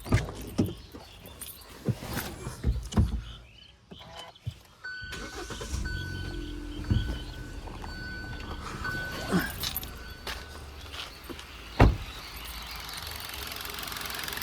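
A used Hyundai i20 Asta Optional petrol hatchback with about 29,000 km is cranked and catches, then settles into a steady close idle hum, with some scattered knocks and background noise before the start.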